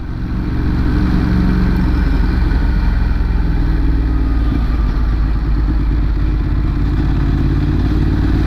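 A motorcycle engine drones loud and steady throughout a ride, a constant mid-pitched hum with clattering mechanical texture and no breaks.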